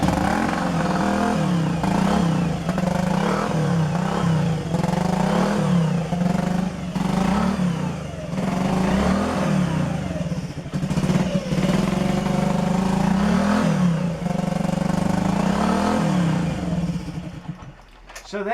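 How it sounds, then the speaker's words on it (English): A Honda C90 ZZ 6-volt motorcycle idles steadily with no battery fitted, its small single-cylinder engine putting out a loud, continuous putter with slight wavering that runs close by for nearly the whole span before cutting off at the end. "So there we have it, on the C90 ZZ 6-volt, running without a battery."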